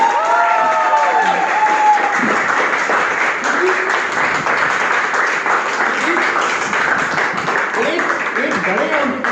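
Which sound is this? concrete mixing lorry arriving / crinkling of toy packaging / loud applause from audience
loud applause from audience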